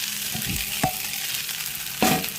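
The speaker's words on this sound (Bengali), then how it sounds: "এখন ক্যাপসিকাম, পেঁয়াজ, লঙ্কা, টমেটো দিয়ে দেবো। তখন ভালো করে ভেজে নেব।" Capsicum, onion, chilli and tomato sizzle and fry in a pan for chowmein, with a constant hiss of hot oil and a couple of brief scraping stirs.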